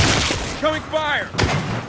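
Gunfire rattles in the video game Gears 5: a short burst of rapid shots in a firefight, with a voice shouting over the fire.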